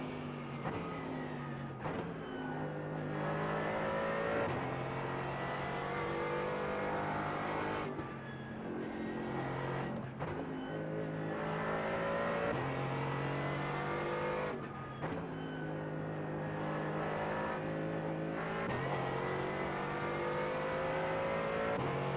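A GT4 race car in iRacing at the Nürburgring Combined circuit, the engine revving hard and climbing through the gears with quick dips at each shift, loud and continuous throughout.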